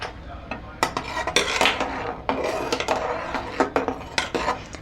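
Sago pearls dropped and stirred with a ladle in a metal cooking pot for a milk-based sweet, giving repeated close clinks and scrapes in an irregular rhythm against a quiet background.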